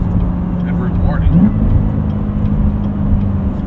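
Manual seven-speed 2019 Chevrolet Corvette Z06 V8 driving at night, a loud low engine drone holding steady from inside the cabin while someone talks over it.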